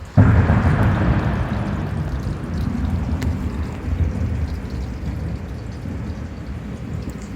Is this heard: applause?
no